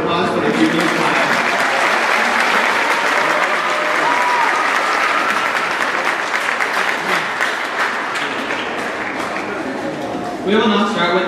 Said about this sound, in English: can we give a round of applause for the junior class?